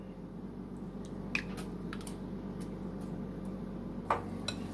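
Biscuit batter of Sprite and sour cream being stirred by hand, giving faint, sparse wet squelches and light clicks over a steady low background hum.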